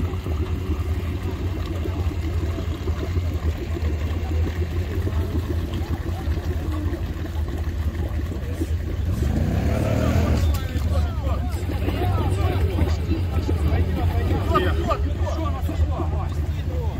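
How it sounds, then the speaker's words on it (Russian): A Suzuki off-road car with an automatic gearbox reverses on an off-road competition stage, its engine a steady low drone that swells slightly partway through, with crowd chatter and voices throughout. "Сузука на автомате едет назад."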